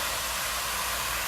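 A Dyson hair dryer with a diffuser attachment blows steadily, a loud continuous airy hiss with no pauses and no voices.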